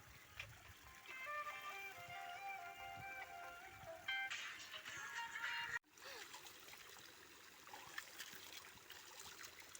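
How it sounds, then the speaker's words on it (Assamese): The Doyang river flows in a steady, soft rushing wash heard from close by, with bright bird-like chirps above it early on and a brief cut before the flowing water carries on. "এইখিনি পানী বৈ আছে"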